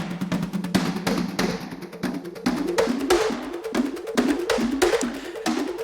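Drum loop run through the Anomaly plugin in pitch-tracking mode, its hits taking on arpeggiated melody notes from a silent MIDI part; steady, busy beat with rising pitched patterns repeating throughout.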